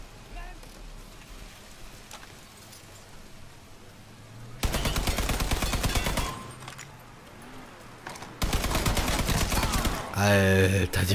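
Two long bursts of rapid machine gun fire from a hundred-round weapon in Mafia III, loud and continuous, separated by a quieter pause, then a brief electronic sound at the end.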